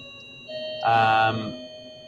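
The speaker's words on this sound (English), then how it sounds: "You got a doorbell in the background?" A short electronic chime rings once, fairly faint and tonal over a steady background hum, fading after about a second.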